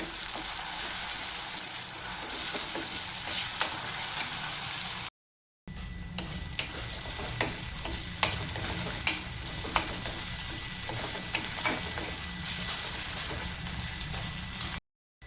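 Steady sizzling and crackling of vegetables frying in a pan, with occasional stirring scrapes; a brief gap of silence interrupts it early on.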